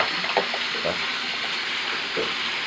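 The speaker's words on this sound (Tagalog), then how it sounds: "nakikita nyo nagre-release siya ng tubig ng mabilis" Swimming pool equipment quickly releases water in a constant hissing, rushing stream, with faint brief voices and knocks underneath.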